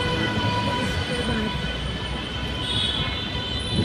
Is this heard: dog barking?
no